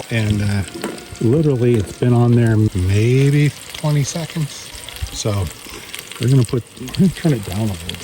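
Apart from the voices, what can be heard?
onions and potatoes frying on a small camp stove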